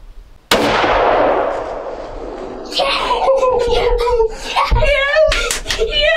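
A single loud, close gunshot while hunting, a sharp crack with a long decaying echo, followed by excited voices of people shouting.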